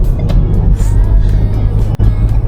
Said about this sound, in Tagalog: And he has a big tricycle that I need to avoid, and this one's avoiding another tricycle.